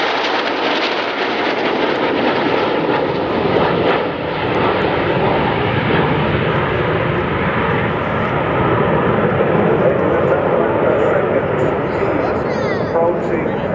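A fixed-wing aircraft roars past low at an air show flyby, a loud continuous engine rumble and rush that swells and holds throughout while an announcer speaks over a public address system.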